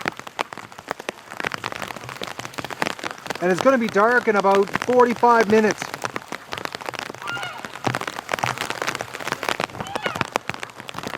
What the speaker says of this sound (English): It's raining far too hard